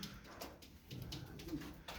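Soft coos of fancy pigeons repeat in a low, murmuring rhythm, mixed with faint background chatter and rustling.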